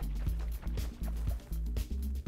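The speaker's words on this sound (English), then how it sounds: "Give a good shake." A cocktail shaker with vodka inside is shaken in quick, rhythmic bursts, each stroke giving a hard rattle and slosh of liquid, close and fairly loud, with short pauses between strokes.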